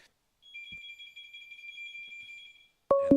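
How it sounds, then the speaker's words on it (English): A prison phone line gives a steady two-tone electronic ring, faint and thin, holding for about two seconds before a sharp, louder burst cuts in at the end. "And the prison phones are ringing."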